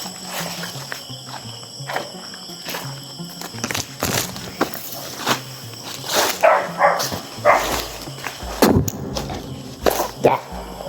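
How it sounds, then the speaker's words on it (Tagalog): Several dogs barking in short irregular bursts around a house at night, some near and some farther off, over a steady chorus of crickets and insects with occasional footsteps. "Marami yung aso"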